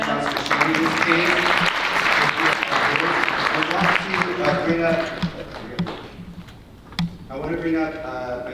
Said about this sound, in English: Round of applause for sharing this case.